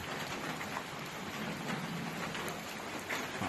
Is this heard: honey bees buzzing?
no